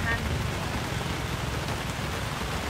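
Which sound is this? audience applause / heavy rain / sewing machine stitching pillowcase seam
heavy rain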